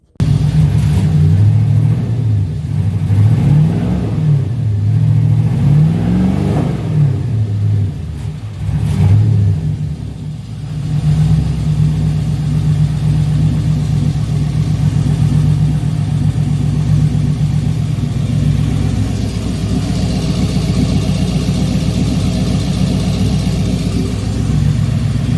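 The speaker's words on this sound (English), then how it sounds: "you can see it running here when I have the engine on." Engine of a 3D-printed Lamborghini Aventador-style Interceptor replica car, revving in several loud rising and falling bursts during the first ten seconds, then settling into a steady, close, continuous idle rumble.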